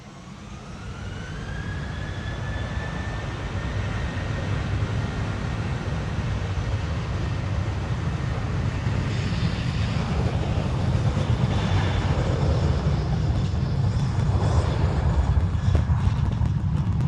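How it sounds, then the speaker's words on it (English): A 25-year-old Boeing 737 departing Amsterdam Schiphol on a windy day, its jet engines a loud, steady, rising roar with a whining tone, close and continuous for the whole stretch, buffeted by wind noise and without talking. "The 737 off to Copenhagen, 25-year-old aircraft."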